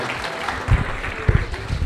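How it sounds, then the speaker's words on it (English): Brief burst of clapping from a crowd at a gala, dense and steady, with a few louder peaks near the end. "can we give Dina a huge round of applause?"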